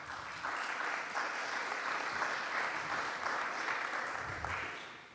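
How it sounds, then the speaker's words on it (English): An audience at a candidate forum for a California State Assembly district breaks into a sustained burst of applause, a steady wash of clapping that holds for several seconds before tapering off at the end. "please do hold your applause from this point on"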